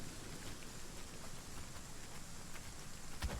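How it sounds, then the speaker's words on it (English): Soft, continuous patter of rain in a survival video game, a faint steady hiss with no talking. "This abysmal rain is not helping."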